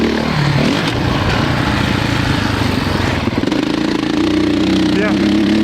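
A 450 dirt bike rides through sand, its engine droning loud and steady throughout, pulling harder toward the end, with a rider talking over it.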